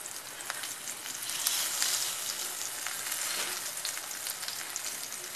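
Stuffed padval (snake gourd) pieces coated in flour fry in a pan of oil with a continuous, close, even sizzle and crackle, with no voices.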